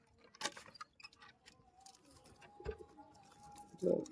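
Pigeons of the Giribaz breed in a Murshidabad loft give soft coos and rustles, with a scattering of small clicks and a louder coo near the end.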